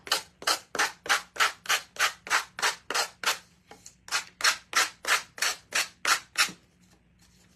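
Rhythmic back-and-forth strokes of a sanding block rasp against a wooden block, about fifteen even scrapes in a steady beat with a short pause partway through.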